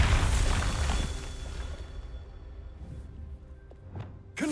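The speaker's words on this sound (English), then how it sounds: "Bombarda!" A Bombarda spell from Hogwarts Legacy goes off as a loud, close boom that opens the clip and rumbles away, with a second, smaller burst near the end.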